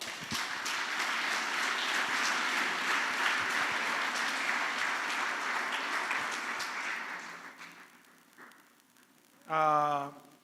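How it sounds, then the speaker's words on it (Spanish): Congregation applause during a church service, a sustained wash of clapping for about seven seconds that fades out, followed by a short burst of the preacher's voice. "Denle un aplauso al Señor."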